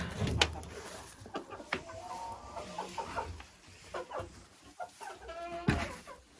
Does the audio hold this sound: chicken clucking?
yes